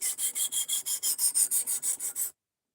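A knife is drawn across a sharpener in about a dozen even, rhythmic rasping strokes, each a bright, close scrape, then stops abruptly into silence.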